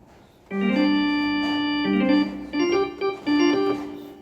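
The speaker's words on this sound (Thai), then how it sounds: "นี่คือเสียงจูโนดีครับ" A Roland Juno-D synthesizer plays a short melodic phrase with bright, sustained tones, notes held then stepping through a few changes, clear and alone.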